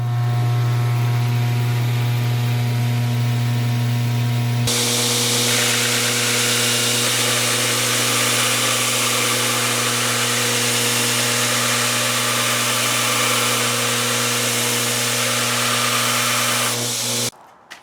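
A used treadmill motor drives a 2x72 belt grinder, a steady loud electric hum with a sharp tonal whine that jumps to a fuller roar partway through, running continuously before cutting off at the end.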